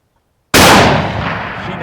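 A single loud rifle shot cracks out during a deer hunt after half a second of near silence, its blast then rolling away in a long, fading echo.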